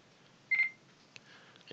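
An ICOM 2730A radio gives a single short electronic beep after a programming upload, faint and brief against quiet background hiss, with a few small clicks afterward.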